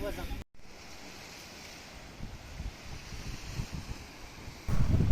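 Sea waves wash onto a pebbly Italian beach with a steady low rush and rising surges, mixed with gusty wind noise across the microphone.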